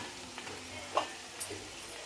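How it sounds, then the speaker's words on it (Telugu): Ground coriander and dried coconut powder fry softly in a pan over a low flame, giving a faint steady sizzle with occasional stirring scrapes. "చిన్న మంట మీద మనము ఫ్రై చేసుకోవాలి"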